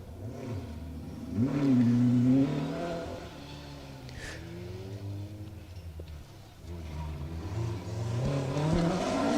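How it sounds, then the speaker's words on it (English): A D2 category Ford Escort rally car on a forest rally stage, engine revving and rising through the gears as it accelerates past, with a fairly distant, steady drone. "D2 category Ford Escort. Going well."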